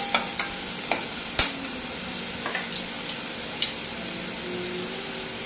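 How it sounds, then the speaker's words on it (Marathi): Onions frying until reddish for prawn masala, a steady close hiss of sizzling oil with a few sharp spoon taps against the pan, no talk. "हा कांदा चांगला लालसर फ्राय करून घ्यायचा आहे"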